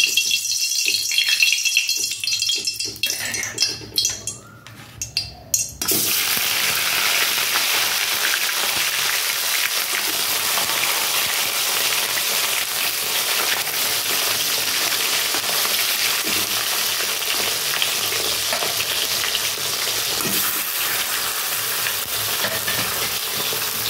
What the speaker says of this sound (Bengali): আর এখন দিয়ে দেবো মাছগুলো, ভাজবো আমি